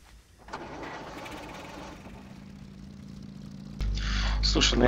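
Two-wheeled motorcycle engine in a video game, a low steady idling rumble that swells into a louder revving roar near the end, with voices talking over it.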